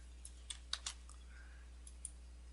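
Scattered keystrokes on a computer keyboard while editing in WordPress, a few quiet, irregular taps spread over a couple of seconds against a low steady hum.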